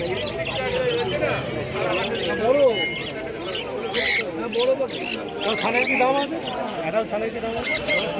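Caged budgerigars at a pet bird market in Dakshineswar chirp in short, bright bursts scattered through a busy background, with people talking steadily over the twittering.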